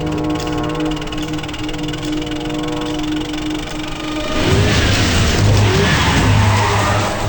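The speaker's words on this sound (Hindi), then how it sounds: "देवा के आदमी आ रहे हैं और तेज चलाओ" A car races at speed during a movie chase scene, engine droning steadily before a loud surge with tire skid and squeal in the final seconds.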